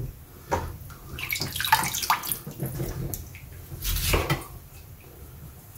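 A boiled pig's head being rinsed and scrubbed in water in a kitchen, with splashing, running water and the clatter of a pot or basin in irregular bursts, close by.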